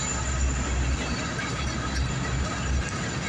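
A CSX SD70AC locomotive hauls a northbound empty coal train past, giving a continuous loud rumble of rolling wagons with wheel noise and faint squeal, steady and close throughout.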